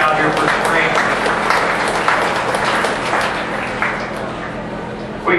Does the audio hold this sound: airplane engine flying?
no